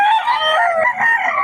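A Sweater bloodline gamefowl rooster crows once, a loud, close, drawn-out cock-a-doodle-doo with a wavering, strained tone, heard alone with no talk.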